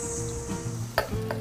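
Onions fry with garlic in a pan, giving a steady close sizzle. A single sharp clink of a utensil against the pan rings out partway through, and there is no talk.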